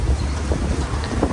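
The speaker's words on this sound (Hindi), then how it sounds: "बहुत तेज़ हवा चल रही है" Strong wind buffets the microphone with a steady low rumble and roar throughout, no voices present.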